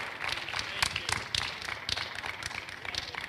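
A church congregation claps during a sermon: scattered, uneven hand claps with several sharp louder strikes, heard over a steady murmur of voices and talking.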